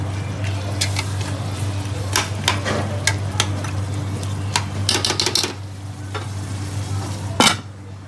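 Mutton biryani sizzles and fries in a pan over high heat while a spoon scrapes and stirs through it in irregular clattering strokes, close and fairly loud, with no talking.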